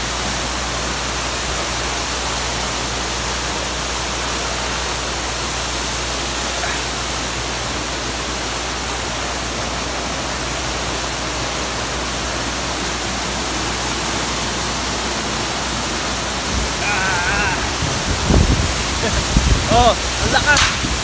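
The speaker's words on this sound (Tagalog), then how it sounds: "Oh, ang lakas ng tubig." Poocan Falls roars with rushing water in a loud, dense, continuous wash close by, and voices briefly break through near the end.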